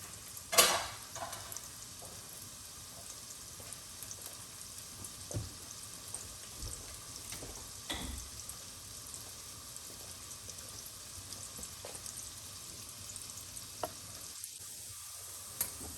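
Onions fry in a pan for a breakfast frittata, a soft, continuous sizzle with occasional scrapes and clicks of stirring, close and without speech.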